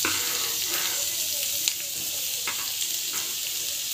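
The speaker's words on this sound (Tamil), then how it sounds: "ஆயில் நல்லா காஞ்ச பிறகு வெங்காயம் வந்து போட்டுக்கலாம்" Onion fries in hot oil, giving a close, constant loud sizzle with faint crackles and one small clack from the pan, no voice over it.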